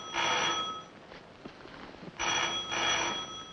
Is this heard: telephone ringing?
yes